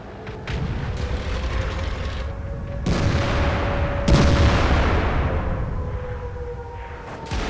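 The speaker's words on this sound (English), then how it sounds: "He has taken 2 big hits from our SPGs, leaving him in on 20 hit points." Self-propelled artillery shells slam into an E5 heavy tank in World of Tanks, delivering heavy booming impacts, two standing out sharply, over a continuous rumbling battle bed.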